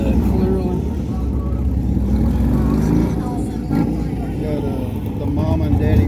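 Engines rumble and rev continuously at an outdoor car show, loud, with overlapping motor noise and voices talking beneath.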